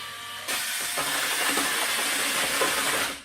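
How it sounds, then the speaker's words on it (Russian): Drill-driven paddle mixer stirring tile adhesive in a bucket, with settled quartz grit scraping at the bottom: a steady, close, hissing whir at low speed that starts abruptly, with gritty rasping texture throughout and no talk. "Вот слышите, там внизу собрался кварц, и прям слышно, как сейчас скребет кварц и перемешивает"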